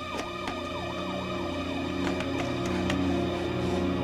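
A police siren wails continuously with a rising and falling tone, steady and fairly loud throughout, with no voices over it, in a Filipino radio drama scene.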